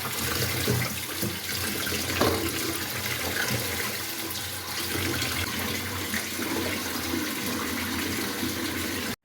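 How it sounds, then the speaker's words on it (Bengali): Sun-dried sour jujubes are rinsed in water before being made into pickle, giving a continuous close splashing and running-water sound throughout, with no voices. "জল দিয়ে মা ধুয়ে নিল।"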